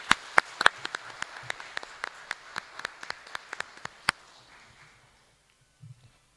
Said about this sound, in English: Let's give ourselves a round of applause for our accomplishments and all the hardships we faced.